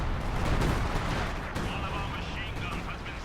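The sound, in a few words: assault artillery fire in video game Company of Heroes 2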